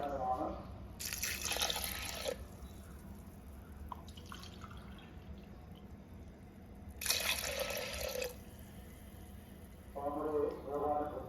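Water is poured from a cup into lentils in a pot in a few separate splashing bursts, each lasting about a second, close up over a low background hum, with talking between pours.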